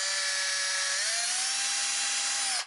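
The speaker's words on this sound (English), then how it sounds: "Drilled myself some holes." An electric drill runs continuously while boring holes in a rubber snowmobile track, giving a steady high motor whine that climbs slightly in pitch partway through, then cuts off abruptly at the end.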